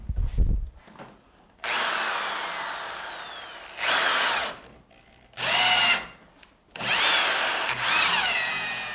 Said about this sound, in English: So let me drill this hole real quick.